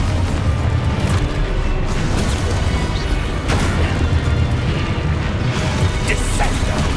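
Expulso explosion spell in the video game Hogwarts Legacy, a sustained loud rumbling of booms, crashes and crumbling debris, with several sharp impacts layered through the continuous roar.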